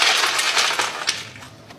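Ice cubes clatter and crunch loudly, close up, as they drop in a quick burst of bright clinks and rattles while making mohabbat ka sharbat, a rose-syrup milk drink.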